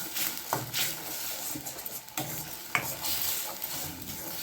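Green masala for Chettinad-style egg phal sautés in a pan, a gentle sizzle under repeated scraping and stirring strokes of a spoon, close and fairly quiet.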